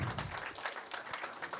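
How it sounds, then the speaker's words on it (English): Brief burst of audience applause at a book launch in a Pune mall venue, many hands clapping at close range with no talking over it. "So the loud round of applause, please."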